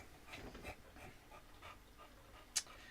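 A dog pants softly in quick, faint breaths close by, with a sharp brief click near the end and no talk.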